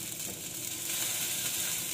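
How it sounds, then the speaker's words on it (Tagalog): Sopas soup boiling and sizzling in a pot, a steady close hiss of bubbling with no pauses. "Kumukulo."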